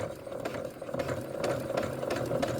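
A sewing machine stitches a pant hem, running steadily at close range with a continuous motor hum and rapid needle clatter, plus a few slightly louder pulses as it goes over earlier stitching.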